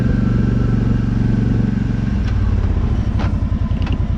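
A Kawasaki Brute Force 750 ATV on lug tires rolls slowly across pavement, giving a close, steady engine rumble with a rhythmic low pulsing and a little rattle near the end.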